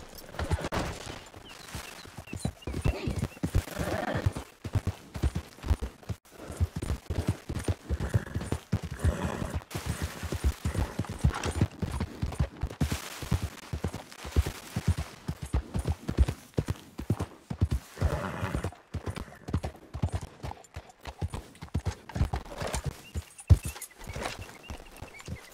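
Horse hooves gallop in Red Dead Redemption 2, a dense, rapid rhythm of clip-clop thumps sustained over the whole stretch with brief pauses, heard alone without talk.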